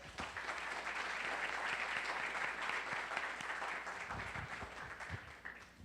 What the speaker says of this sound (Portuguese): Quem quer louvar, aplauda o Senhor.